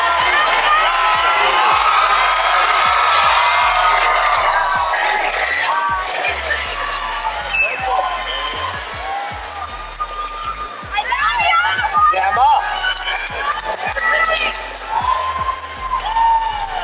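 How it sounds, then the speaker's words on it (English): Graduation ceremony audience breaks into sustained cheering and whooping with crowd noise, loud and continuous, shrill shouts rising again near the end. "Yes, a big round of applause."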